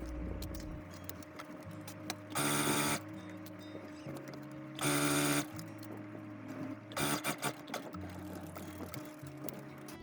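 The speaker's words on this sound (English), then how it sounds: "Now we'll take it to the machine and sew all the way around." A sewing machine stitches around the edge of a lined drawstring bag in three short, even bursts of rapid mechanical whirring, separated by pauses over a steady low background hum.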